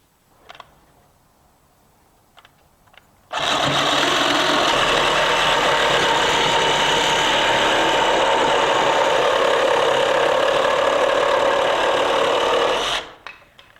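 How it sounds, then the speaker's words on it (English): A Sawzall reciprocating saw cuts wood for a bench, starting abruptly after a few quiet seconds and running as a loud, close, rough rasping drone for about ten seconds before stopping, with no talking. "try to cut straight with the Sawzall"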